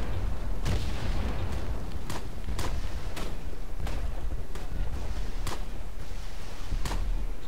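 Artillery fire in the video game Tannenberg: heavy booms repeating roughly every half second to second over a dense, constant battlefield roar, loud and close.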